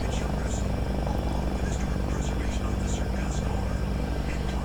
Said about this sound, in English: So engines are up and running.